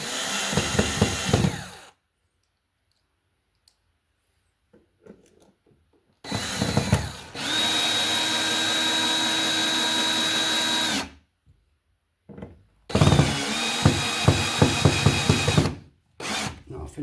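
A power drill drives screws to mount a replacement wall receptacle, probably 50 years old with cloth/rubber wiring, in a wall box; short close whirring bursts alternate with pauses, with one longer steady run in the middle and no talk.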